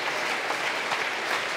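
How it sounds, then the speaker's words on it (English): A church congregation claps hands together in dense, continuous applause, loud and close throughout. "We should clap our hands for him."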